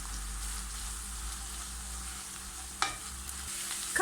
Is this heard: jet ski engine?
no